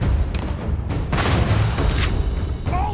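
Gunfire in the video game Starfield, a loud, dense run of booming shots that lasts throughout with heavy low-end rumble and no talk.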